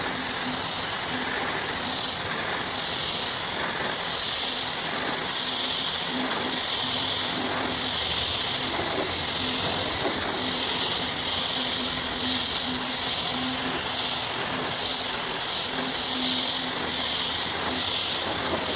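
A paint spray gun fitted with a 1.4 tip laying a coat of paint onto an autobody panel, giving a continuous loud airy hiss that runs unbroken for the whole stretch, with no talking.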